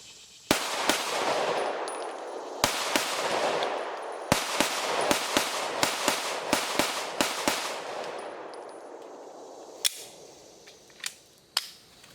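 IWI Masada Slim 9mm pistol fired on an outdoor range, sharp loud shots in quick strings and singles with ringing decay between them, ending in a few spaced shots.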